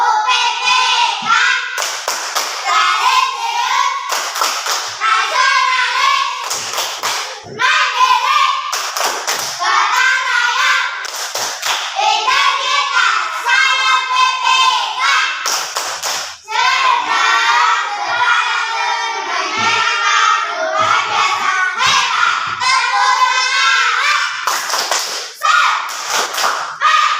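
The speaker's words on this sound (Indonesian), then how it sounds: "Ayo sekarang tepuk PPK ya." A class of children performs the PPK clapping chant in a religious education lesson, loud sung and shouted voices over sharp rhythmic hand claps that repeat in patterned bursts for nearly half a minute.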